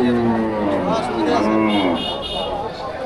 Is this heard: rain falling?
no